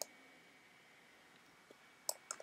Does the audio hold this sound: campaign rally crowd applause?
no